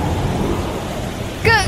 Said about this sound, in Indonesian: Kenapa tiba-tiba turun hujan badai begini?